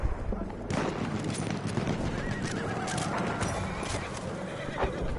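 A horse whinnies and hooves clop amid busy Battlefield 1 game action, with scattered sharp bangs and faint voices in the background.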